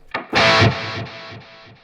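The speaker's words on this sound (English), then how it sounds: "The delay is set to an 8th note, and that sounds like this." A distorted guitar hit followed by a string of quick, fading eighth-note delay repeats that trail off within a couple of seconds.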